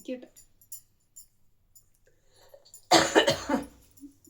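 A loud burst of coughing from two children breaks a near-silent stretch, a few harsh rapid coughs close to the listener.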